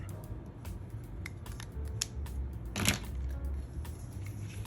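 Scissors snip through blouse fabric in a rapid series of crisp short cuts, close and clear over a faint background, with one louder crunching cut near the middle and no talk.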